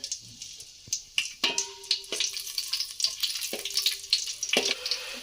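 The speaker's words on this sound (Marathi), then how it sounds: "इकडे तेल टाकलं आहे तर हे खडे मसाले बाकीचे उरलेले दोन मिरच्या" Whole spices and two chillies crackle in hot oil in a heated pot while a gravy is started for fish biryani. A steady close sizzle is broken by sharp spatula scrapes and clinks, with no talking.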